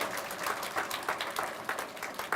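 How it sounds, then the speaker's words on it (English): Steady applause from a university seminar audience, a dense crackle of many hands clapping at even volume throughout. "May we once again welcome all our learned speakers with a big round of applause"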